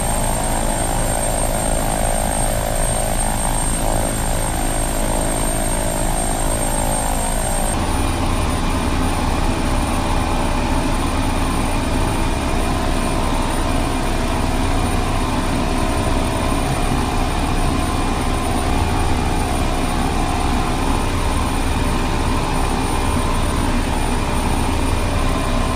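A Beechcraft 1900D twin turboprop in Flight Simulator 2002 drones loudly and steadily throughout, with a shift in tone about a third of the way in and no talking.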